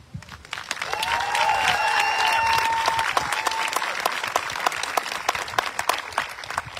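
Sustained applause from a college commencement audience, building quickly and holding steady before thinning into scattered individual claps, with a few cheers early on.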